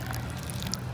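Water pours steadily onto soil over freshly planted seeds, a continuous close trickle and splash with soft dribbling accents throughout.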